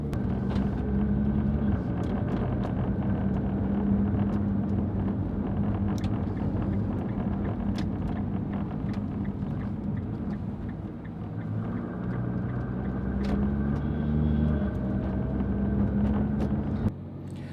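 Nissan GT-R engine heard from inside the cabin during a ride-along, a continuous low droning hum with road and wind noise, steady in level for the whole stretch, no talking.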